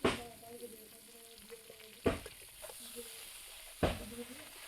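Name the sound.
ridge gourd stir-fried in mustard oil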